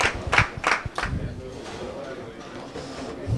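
Crowd at a Special Olympics bowling event clapping in a few sharp bursts at the start, then settling under a commentator's voice that talks over the rest.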